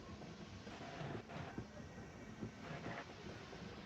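A tram train in the game Half-Life rolls along with a quiet, steady mechanical rumble and soft clattering, faint and continuous.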